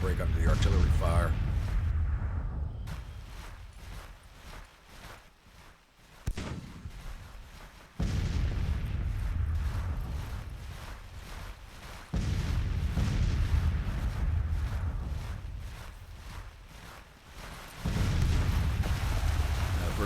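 Artillery fire rumbles in a Civil War battle in the Grand Tactician strategy game, with repeated heavy booms and a dense low roar of battle noise across the whole stretch.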